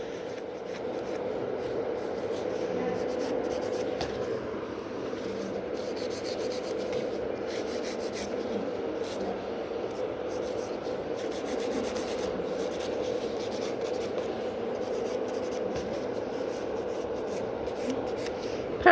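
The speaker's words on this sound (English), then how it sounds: "so couple movement of the file and it's gone" A hand nail file rubs steadily across gel nails during a rebalance, a close, continuous soft scratching with quick back-and-forth strokes and no talking.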